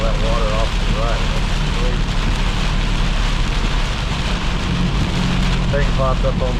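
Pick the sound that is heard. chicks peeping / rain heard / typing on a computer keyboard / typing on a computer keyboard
rain heard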